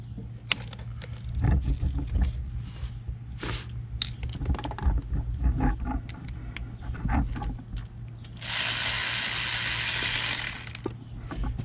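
Torx bolts come off the bell housing of a GM transmission in a BMW with scattered metallic clicks and clinks, then a burst of steady power-tool whirring, all over a low background hum.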